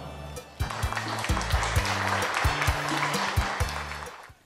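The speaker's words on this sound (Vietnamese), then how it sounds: "Chúc quý vị dành tràng pháo tay nồng nhiệt để chào đón ạ." Guests at a Vietnamese engagement ceremony burst into warm, dense applause that starts abruptly, holds steady for a few seconds, then tapers off, with music playing underneath.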